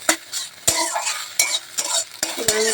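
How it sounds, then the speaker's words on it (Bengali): Egg fries and is scrambled into bhujia in a pan: loud, close scraping stir strokes recur roughly every half second over a crackling sizzle, with no speech. "তো ডিমটাকে আমি পুরো ভেজে নেবো মানে ডিমের ঝুড়ি করে নেবো"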